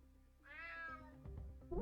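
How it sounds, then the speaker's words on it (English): A single drawn-out cat meow from the video game Unmetal, rising then falling, fairly clear and close, followed by a few soft thumps. "Damn cat."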